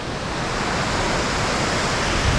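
Diyaluma Falls, a very tall waterfall in Sri Lanka, roars as a steady, loud, broadband wash of falling water, unbroken and close, with no voices over it.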